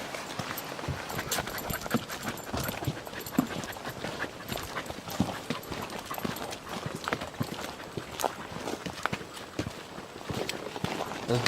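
A dog treads a forested hiking trail near waterfalls in South Cumberland's Savage Gulf, with quick, irregular footfalls and scuffs on dirt and leaves, close and moderately loud and continuous throughout.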